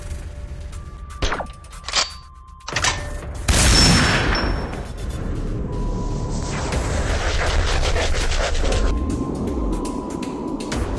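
Gunfire in a WW2 sniper video game: several sharp reports in the first few seconds, a loud blast near four seconds, then a sustained roaring rumble of game ambience and echoes.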